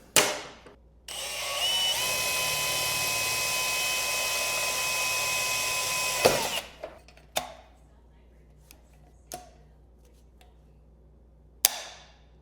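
Power drill boring rivet holes in sheet metal for a china cap: a steady high-pitched whine lasting about five seconds, followed by scattered metallic clicks and knocks of handling, close and distinct.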